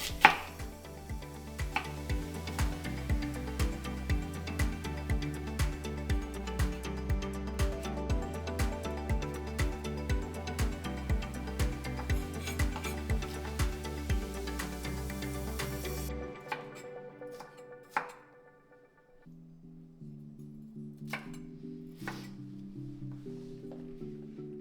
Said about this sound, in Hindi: इसे हम स्मॉल स्क्वायर्स में काटेंगे